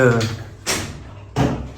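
Heavy doors opening in Grand Theft Auto, three separate thuds or swings spaced about half a second apart, loud and close, with someone talking over them.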